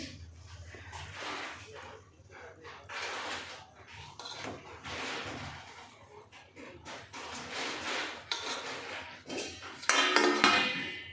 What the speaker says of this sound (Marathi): तर एका प्लेटमध्ये काढून घेऊया